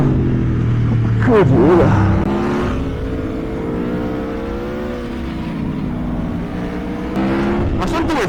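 A motorcycle engine runs and revs during a ride on Sardinian roads, its harmonic drone rising and falling with gear changes while riders talk briefly over it.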